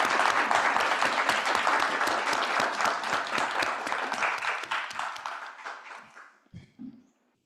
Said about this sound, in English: let's finish with a big round of applause for everyone.